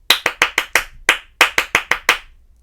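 Ten crisp, close hand claps tap out a syncopated rhythm pattern during a children's music lesson, evenly loud and sharp, with short gaps and one longer pause near the middle, no voices.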